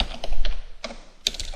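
Typing on a computer keyboard late at night while writing Allegro 5 font code, with irregular bursts of close, crisp key clicks and short pauses, no talking.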